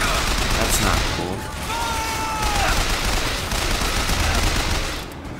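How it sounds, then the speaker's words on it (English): Continuous enemy gunfire fills the BioShock Infinite game scene, a dense, steady rattle of shots with a brief whistling tone partway through, loud and close throughout. "Oh, that thing is shooting at me."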